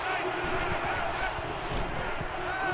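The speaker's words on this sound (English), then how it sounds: "This crowd is amazing" Stadium crowd cheering during a college football game in NCAA 14, a 1995 Nebraska dynasty; a steady, loud roar of many voices fills the whole span with no pauses.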